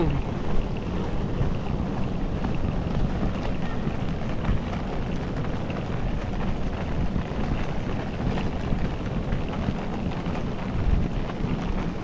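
Rain falls steadily in South Korea, making a dense, continuous hiss mixed with low rumbling and wind noise. The sound is fairly loud and unbroken throughout, with no clear voices.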